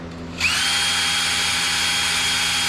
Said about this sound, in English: I center punched it with my punch there, and I'm starting with an 1/8 inch drill bit.